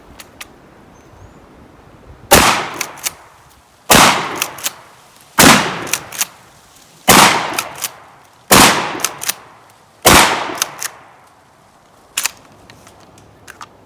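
Seven loud shotgun blasts from a 12 gauge firing Aguila minishells ring out in a slow, uneven string, each sharp crack trailed by a brief echoing decay, with faint mechanical clicks of cycling in between.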